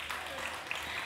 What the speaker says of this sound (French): je vous demande s'il vous plaît d'applaudir Tabata May